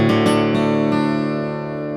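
A few notes plucked in quick succession on a solid cedar top electric guitar, then one sustained note rings out clearly and slowly decays, alone.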